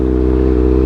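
A 2015 Kawasaki ZX-6R 636 sport bike with a Racefit aftermarket exhaust idles close by, a loud, steady low rumble with a throbbing harmonic drone and no voices over it.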